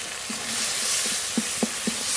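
Ground spice paste of cumin, dried red chilli, ginger and garlic with salt and turmeric frying in a pan for egg curry, a steady hiss punctuated by several soft scraping stir strokes.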